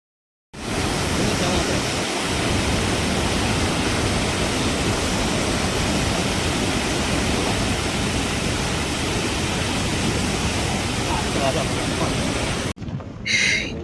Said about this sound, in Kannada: ಸಾಗರದ ಬಸವನಹಳ್ಳಿಯ ನದಿ ಪಾತ್ರದಲ್ಲಿ ಕೃತಕ ಜಲಪಾತ ಸೃಷ್ಟಿಯಾಗಿದ್ದು, ದೃಶ್ಯ ಮನಮೋಹಕವಾಗಿ ಕಂಡುಬರುತ್ತಿದೆ